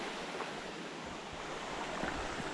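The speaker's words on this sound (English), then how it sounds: "Little waterfall." A small waterfall on a Smoky Mountains hiking trail gives off a steady broadband rush of falling water, continuous and even, with no voices.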